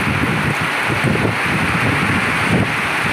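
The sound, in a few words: wind and rain storm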